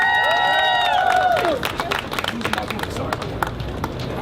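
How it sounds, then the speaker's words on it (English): At a fathers and men rally at City Hall, crowd applause and cheering fill the space after a few sustained tones fade, steady clapping continuing to the end. "give yourselves a round of applause"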